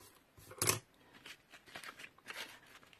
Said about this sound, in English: I'll just trim that there so it looks a bit neater